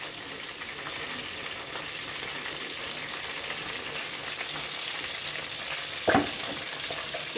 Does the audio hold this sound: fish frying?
yes